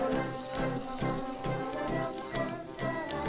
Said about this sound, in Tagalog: dagdagan na lang natin siya ng tubig, mga 1 cup water